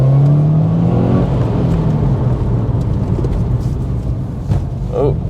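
A Subaru Impreza STI Spec C rally-style car accelerating, its engine a loud, steady low drone that rises through the revs from inside the cabin, with a voice talking over it.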